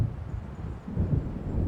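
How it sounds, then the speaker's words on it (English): Thunder from an approaching storm in the video game Alan Wake, a low rolling rumble swelling and fading over a couple of seconds, with no voices. "It seems there's a storm coming."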